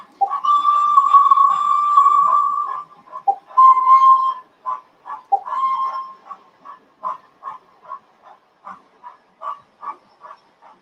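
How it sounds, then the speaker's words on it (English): A Hornby TTS Flying Scotsman model steam locomotive sound unit gives a long, loud whistle blast and two shorter ones, then settles into a steady rhythmic chuff, close and clear with no voices. "We'll have a blast of the whistle."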